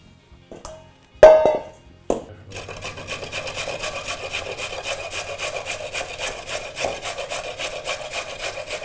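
Raw carrots are rubbed against a hand grater in quick, even rasping strokes, close and loud, after a few opening knocks and handling sounds.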